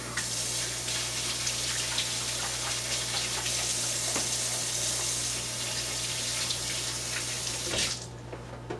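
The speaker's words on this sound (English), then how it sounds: "Now I'm going to just rinse my hands quickly" Tap water runs steadily over hands being rinsed in a kitchen sink after handling raw eggs for a flourless cake, a constant close splashing rush that cuts off abruptly near the end.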